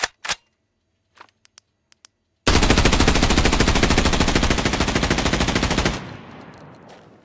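Sustained automatic rifle fire from a budget weapon in the shooter game Arena Breakout Infinite, a loud rapid unbroken burst lasting about three and a half seconds after a few faint clicks, then a brief ringing tail.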